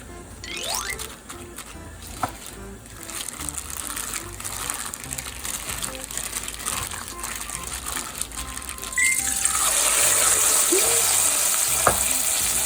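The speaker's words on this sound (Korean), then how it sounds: "장난 아니게 잘 튀겨지는데요?" Battered pork for sweet and sour pork fries in hot oil with a steady crackling sizzle, growing louder and denser near the end, heard close with a few clinks and no speech.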